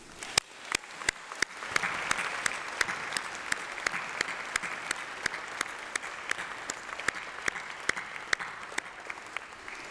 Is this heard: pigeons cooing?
no